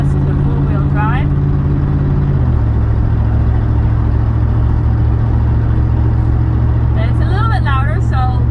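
A 1999 Chevy Silverado pickup's engine rumbles steadily at close range while driving on gravel, the low drone shifting in pitch partway through as it rolls along.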